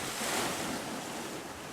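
Sea waves wash steadily onto a beach, a soft continuous surf rush mixed with some wind noise across the microphone.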